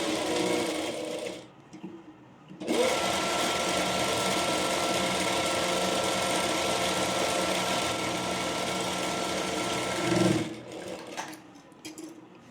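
Sewing machine stitching a layered frill frock, a loud, steady mechanical whir that runs in bursts, with a short pause early on and a clunk near the end as it stops, and no talking.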